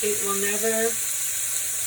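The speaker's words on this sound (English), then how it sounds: "Then I'm going to fry them. I'm just frying them up now." Meatballs fry in a well-used non-stick pan with a steady, close sizzle and crackle, while a voice talks over the cooking for the first half.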